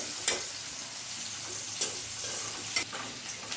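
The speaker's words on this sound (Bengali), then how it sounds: "পটল ভাজা একবারে শেষ পর্যায়ে" Steady oil sizzling as pointed gourd fries in a pan, broken by three sharp scraping stirs of a spatula at intervals.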